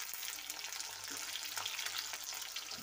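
Capsicum frying in a kadhai for kadhai paneer, a close crackling sizzle with occasional stirring scrapes and clinks over a continuous hiss, moderately quiet and without any speech.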